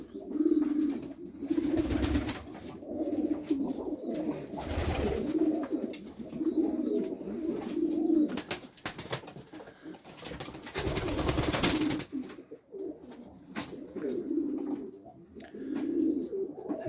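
Pigeons coo in repeated soft, throaty phrases during a night feeding, close by and steady, with intermittent rustling and faint background noise.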